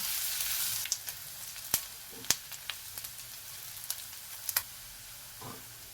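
Thinly sliced onions fry in oil until golden brown for Khandeshi shev bhaji, a soft low sizzle broken by scattered sharp crackles and pops.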